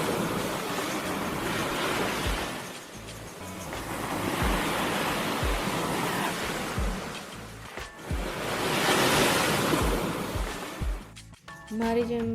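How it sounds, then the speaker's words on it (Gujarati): Sea waves roll in and break on the shore at Madhavpur Beach in a repeated surge-and-retreat rhythm, loud and close, with wind buffeting and faint voices in the background. "મિત્રો, દરિયાના મોજાનો અવાજ સાંભળો."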